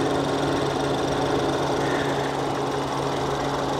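A Ford EcoBoost engine with a 4.3-quart oil capacity idles under an open hood, giving a steady, loud, even mechanical hum and whir with a low constant drone and no talk.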